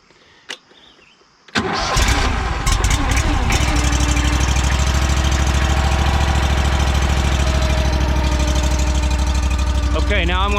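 A firewood splitter's small engine is choked and given a little throttle, then coughs to life and settles into a steady, loud idle close by, its running note wavering near the end.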